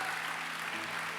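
A church congregation applauding, a dense even wash of clapping from many hands in a large room, steady and moderately loud for a brief stretch with no voices over it.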